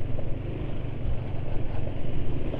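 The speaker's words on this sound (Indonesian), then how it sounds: "Suara mesin ya nggak terlalu halus, tapi jelas lebih halus dari kemarin lah ya." Motorcycle engine idling at low RPM after an oil change to Bell 1 oil, a steady close rumble with a slightly rough, uneven beat throughout.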